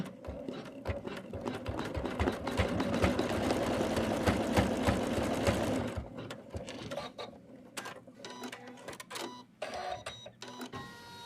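An embroidery machine stitches the next colour of an in-the-hoop Santa, a fast rhythmic mechanical whir for about six seconds that gives way to scattered clicks and small mechanical knocks as it stops.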